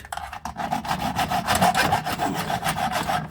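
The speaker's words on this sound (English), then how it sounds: "I'm going to use like a hacksaw blade" A hacksaw blade cuts through a part of a compressor with steady, rasping back-and-forth strokes, close and fairly loud, with no talking.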